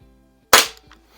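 A single sharp shot from a Crosman 3622 air gun fired across a chronograph, a loud isolated crack followed by a brief faint rattle in an otherwise quiet setting.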